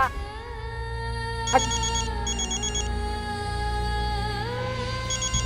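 A phone ringtone plays for an incoming call, a sustained melodic electronic tune with repeating high chiming notes, clear and indoors, continuing steadily without voices.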